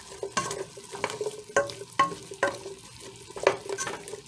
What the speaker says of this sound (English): And we're going to go ahead and mix it. Mix it up real good.